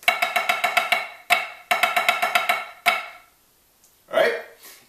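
Snare drum exercise: six quick evenly spaced single strokes twice over, each run ending on a heavier accented hit, then a pause and a final flam, played close and alone.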